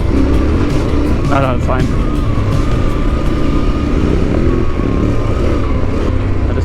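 A motorcycle engine revs and drones on a tricky dirt trail in Montenegro as the rider ahead pulls wheelies, a steady roar with brief rising whines and wind buffeting, a voice speaking briefly over it.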